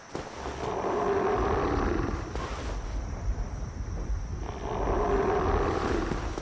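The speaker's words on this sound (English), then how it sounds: "That's the noise asylum demons make." The asylum demon in Dark Souls lets out a deep, rumbling roar, swelling twice with a pause between, distant and wind-like with no voices over it.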